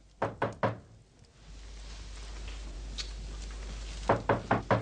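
Three sharp, evenly spaced raps on a wooden door, then a stretch of low room hum, then another quick series of four knocks, close and distinct.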